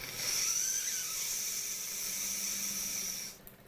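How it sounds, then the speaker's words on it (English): A steady, high hiss of escaping steam from the whistle of a Jensen 45 steel-boiler model steam engine runs for a few seconds at moderate volume, then cuts off abruptly. "get a hiss rather than a whistle"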